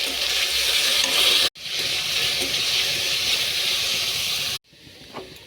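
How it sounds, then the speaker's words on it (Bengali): Onion with chopped carrot and potato frying in a wok gives a loud, steady hiss and sizzle with stirring. It breaks off twice, and the second break leaves quieter frying near the end. No one speaks. "পেঁয়াজটা ভাজা ভাজা হয়ে গেলে গাজর কুচি,"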